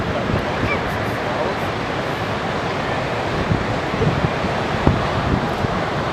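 Waves breaking and washing at Ocean Beach, a continuous broad roar of surf mixed with wind buffeting the microphone, with occasional louder crashes cutting through.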